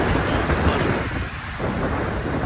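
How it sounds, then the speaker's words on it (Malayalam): Heavy nighttime rain with thunder: a dense, steady roar of downpour fills the whole stretch with no clear breaks, and a deep rumble runs underneath. "നല്ല മഴയുണ്ടായിരുന്നു."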